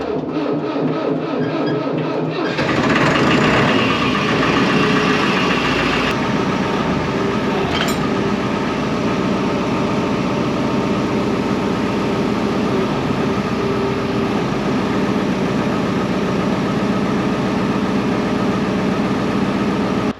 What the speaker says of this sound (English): So while that tractor's warming up for a minute